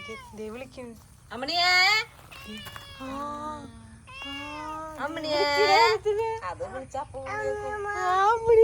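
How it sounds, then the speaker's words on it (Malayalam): A cat meows repeatedly in a series of drawn-out, rising and falling cries, close and fairly loud, with brief pauses between calls. "ഇവിടെ അമ്മണി പൂച്ചനെ"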